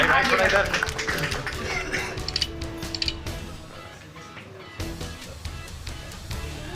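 Audience applause opens a programme at a leadership award ceremony in Delhi's Constitution Club. The clapping is dense and loud at first, then thins into scattered claps while a voice talks over it.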